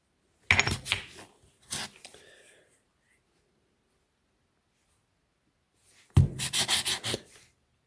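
A horn artifact is rubbed and polished in two short bursts of dry scraping friction, close and fairly loud, separated by a long silent gap.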